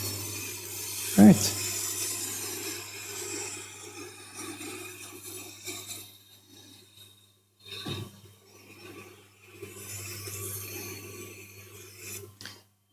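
A knife is honed on a Tormek sharpener: soft rubbing strokes come in a few passes, separated by quiet pauses with a steady machine hum beneath, and a voice speaks briefly.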